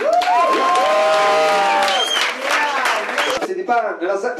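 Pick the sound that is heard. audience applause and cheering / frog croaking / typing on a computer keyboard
audience applause and cheering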